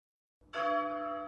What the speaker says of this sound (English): The single bell at the church in Neau has been tolling slowly all morning.